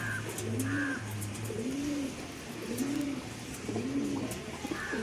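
Pigeons kept for sale coo close by in Bangalore, with several soft, low, rolling coos repeating every second or so against a steady background hum and a few faint chirps.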